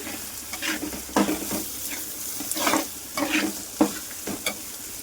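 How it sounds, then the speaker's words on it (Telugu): Pepper rasam bubbling and simmering in a pot, a steady soft seething hiss with irregular bubbling pops and light stirring, no talking. "మిరియాల రసం అనేది పెట్టుకున్నానండి, మరుగుతుంది."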